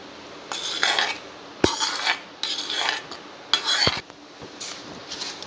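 A spoon scrapes and stirs a rava laddu mixture with ghee, cashews and raisins in a metal pan, making repeated close metallic scrapes and clinks in short bursts separated by brief pauses.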